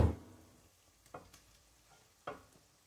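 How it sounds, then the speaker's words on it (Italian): Tripe for trippa alla fiorentina goes into olive oil with golden onion, giving a soft fading sizzle and a couple of quiet utensil clacks against the pan. "Quando la cipolla incomincia a dorare, mettere subito la trippa."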